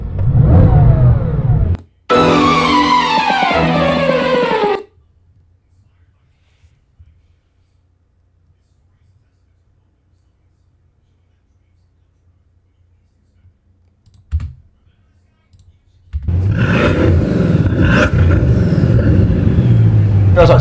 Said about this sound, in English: let's just have a little sound of these cars' engines